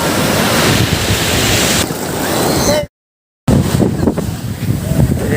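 Sea waves at Kottapatnam beach on the Bay of Bengal, a loud continuous surf roar with heavy wind buffeting the microphone, briefly cut out for a moment before resuming.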